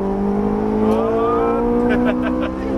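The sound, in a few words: Ferrari 458 Italia accelerating on a race track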